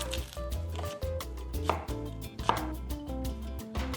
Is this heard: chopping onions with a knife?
yes